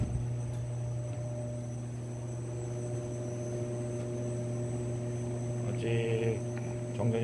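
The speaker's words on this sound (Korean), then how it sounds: "에어컨" Steady electrical hum from server room equipment and air conditioning beside a UPS, a constant tonal drone holding at even loudness throughout, with a few faint clicks and a brief higher whir near the end.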